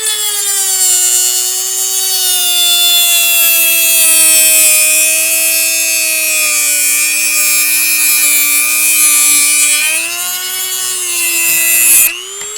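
A power tool whines steadily while cutting a drone rotor wing, a loud continuous high-pitched grinding tone with slight pitch dips, then stopping abruptly near the end.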